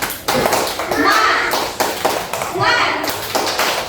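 Kindergarten children in a classroom perform the tepuk semangat chant, rhythmic bursts of group hand claps alternating with their shouted chanting voices, lively and close throughout.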